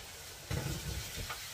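Minced meat sizzling in a pan over onions that were fried first, a steady loud hiss with a brief burst of crackling as the meat goes in, close up and with no talk.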